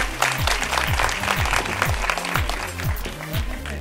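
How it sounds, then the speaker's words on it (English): Audience applause for actress Vidya Balan at an IMC Ladies interaction event, a steady round of clapping from a seated crowd with a low humming tonal pattern underneath throughout. "So a big round of applause for Vidya ji."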